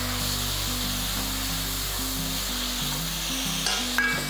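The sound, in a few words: chopped tomatoes sizzling in pan with onions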